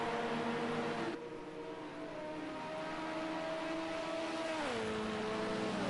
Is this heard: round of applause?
no